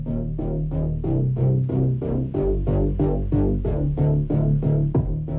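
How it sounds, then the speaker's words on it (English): A kick drum in a dark electronic pop production thumps in a steady, evenly spaced pattern, layered over a heavy synth bass line with no vocals. "Then the first kick drum is introduced."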